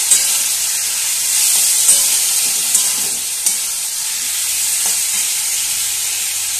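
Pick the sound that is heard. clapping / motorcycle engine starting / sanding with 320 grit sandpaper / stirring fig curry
stirring fig curry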